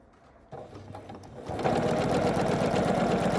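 A sewing machine stitches along the edge of a quilt panel block, starting with a slow whir and then speeding into a steady, loud, rapid mechanical chatter.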